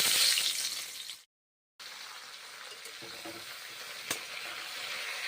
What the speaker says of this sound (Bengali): ভেজে নিচ্ছি মাশরুম গরম তেলে